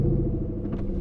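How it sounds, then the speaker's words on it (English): Aston Martin Vantage engine just after the start button is pressed, a deep low rumble settling into a burbling idle, heard up close for about a second. "Put your foot on the brake for me and press the start button."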